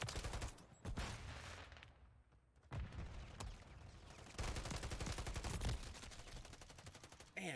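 Rapid bursts of gunfire from the action game Wayfinder, loud, close sharp cracks in clustered volleys that drop out briefly, then resume with dense automatic shooting.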